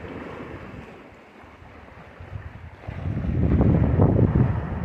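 Water rushes into a canal syphon tunnel at Slab City, a churning roar that swells louder partway through, mixed with gusts of wind buffeting the microphone.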